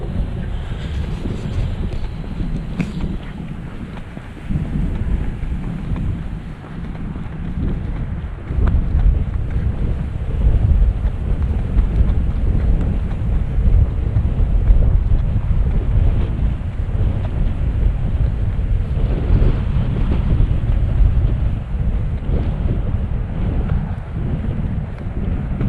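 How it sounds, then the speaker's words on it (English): Strong, gusty wind blows over an outdoor hiking trail in February and buffets the microphone with a constant low roar. It swells louder through the second half, with no talking. "Ooh, really breezy the second half"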